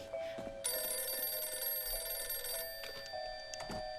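A telephone rings in bursts of shrill, bright electronic trilling, close and loud, with short pauses between rings.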